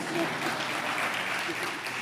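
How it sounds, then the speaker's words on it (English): Dense, steady applause from a crowd, continuous and fairly loud throughout, with a faint voice underneath. "you can applaud as we're doing this"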